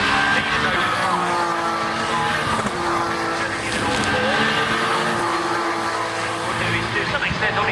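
Touring race cars roar past on a racing circuit during British Touring Car Championship qualifying, a loud continuous engine drone with shifting pitch as several cars pass, under a commentator's voice.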